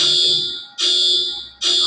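An earthquake alert alarm sounds in loud, sustained shrill tones, repeating in three long bursts with brief breaks between them, with no voices.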